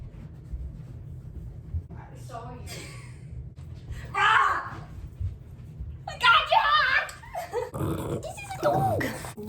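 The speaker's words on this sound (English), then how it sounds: "This is a dog." A dog makes short whimpering and growling sounds indoors, scattered among bursts of people and someone talking close by.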